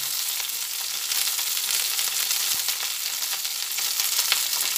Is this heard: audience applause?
no